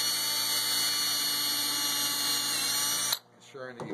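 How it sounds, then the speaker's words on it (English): A power drill bores a hole through a wooden picture frame, its steady, loud high whine running for about three seconds before cutting off, followed by a brief voice. "drill a hole,"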